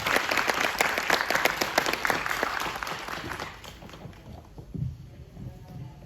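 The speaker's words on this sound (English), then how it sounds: "can we have a huge round of applause for three of them?" Audience applause for an event's speakers and moderators, a dense burst of many hands clapping that fades gradually over several seconds into a quieter room.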